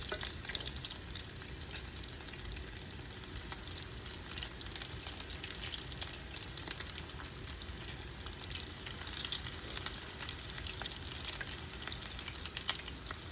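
Flautas frying in very hot oil alongside ribs and nopales, a dense steady sizzle with fine crackling pops throughout, close and fairly loud, with no talking.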